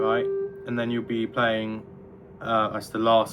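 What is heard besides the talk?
No everyday noises stand out.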